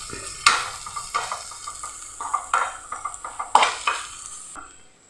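A spice masala with turmeric and pepper powder being mixed in a pan, heard as a rhythmic series of close scraping and clinking spoon strokes over a light sizzle, ending in near quiet.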